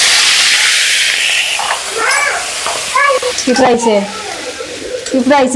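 Sea crabs coated in turmeric, chili and salt fry in hot oil, a steady hissing sizzle running through the clip while someone talks over it.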